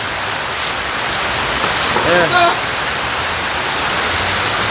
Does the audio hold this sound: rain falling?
yes